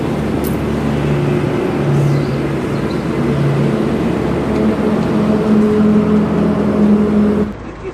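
A truck engine runs loud and close as the vehicle pulls away on a long-haul trip toward Kashmir, a steady droning rumble with road noise, dropping off sharply near the end.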